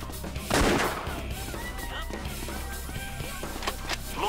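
A shotgun blast in the Metal Assault video game, one loud sharp shot near the start followed by quieter game sounds and scattered impacts under a steady low background hum.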